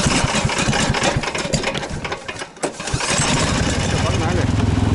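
The engine of a snowmobile-style motorized tow on snow cranks and catches, then settles into a loud, steady rattling idle close by. Voices talk over the engine.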